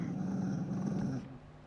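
A Mabari war dog in the video game Dragon Age Inquisition gives a low, continuous rumbling growl that holds steady for over a second and then drops away, heard close and alone without talk.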